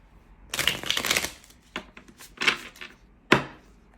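Tarot cards being shuffled by hand in bursts: a long riffle, then a few shorter shuffles and a sharp final tap, close and clear with no talking.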